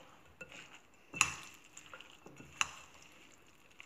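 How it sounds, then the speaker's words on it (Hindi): Maggi noodle pakora batter being mixed in a bowl, with a few scattered clinks and scraping knocks of a utensil against the bowl, two sharper taps standing out in a quiet room. "एंड अभी हम इसको अगेन मिक्स करेंगे।"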